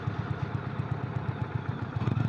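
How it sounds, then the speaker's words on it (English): An Indian Springfield Dark Horse 116 V-twin motorcycle decelerating on engine braking, a steady low rumbling putter with rapid pulsing beats, fairly quiet and continuous without speech. "this thing will engine brake almost to a crawling stop"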